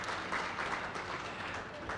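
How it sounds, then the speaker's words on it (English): Audience round of applause at a business lunch event, a soft, even wash of clapping heard from some distance, steady for the whole moment with faint voices underneath. "I think that deserves a round of applause just in itself, doesn't it?"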